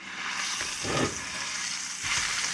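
Top cap sirloin steak sears in a cast iron pan with a steady, close sizzle and hiss, swelling briefly in a couple of louder bursts.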